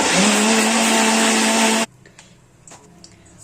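A mixer grinder whirs loudly and steadily as it grinds a garlic and chili chutney, then cuts off abruptly, leaving faint clinks and small handling noises.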